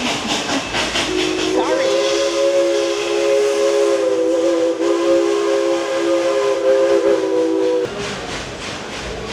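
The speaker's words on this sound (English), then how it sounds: "I was just watching the choo-choo train come in" At Dollywood a steam train pulls in, sounding a loud, sustained steam whistle for about six seconds over a constant hiss of steam. A voice speaks briefly near the start.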